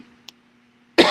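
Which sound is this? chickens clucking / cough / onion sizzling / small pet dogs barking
cough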